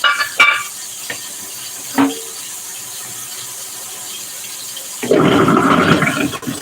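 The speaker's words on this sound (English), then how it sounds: "that doesn't sound like it should be in the garbage disposal" A kitchen sink garbage disposal chops up a tomato. After a few scattered clinks and a quiet stretch, a loud, dense grinding roar starts abruptly near the end and runs on.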